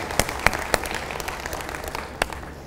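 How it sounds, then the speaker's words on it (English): An audience claps for a volunteer at a keynote talk for a travel industry event, a few sharp close claps standing out over a thin, steady patter that fades toward the end. "Let's give her a round of applause."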